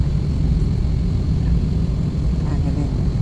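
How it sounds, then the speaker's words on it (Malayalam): A steady, loud low roar of Saudia airliner engines spooling up before taxiing on a Jeddah to Riyadh flight, heard from inside the cabin as a continuous drone. "ഫ്ലൈറ്റ് സ്റ്റാർട്ട് ചെയ്തു."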